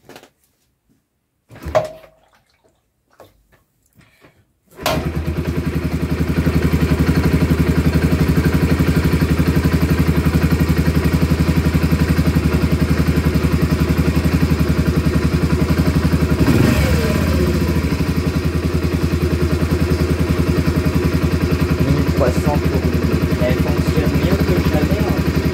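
A motorcycle is started after a few clicks and clatters, and its engine catches abruptly and settles into a loud, steady, close-up idle that runs without a break.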